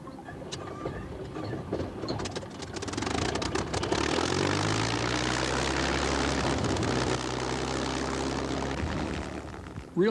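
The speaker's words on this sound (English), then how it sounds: "Here's a P-51 Mustang fighter plane that was used in World War II" A World War II P-51 Mustang fighter plane roars with a loud, sustained propeller engine drone, its low harmonic hum settling into a steady pitch as it passes close by, with no voices present.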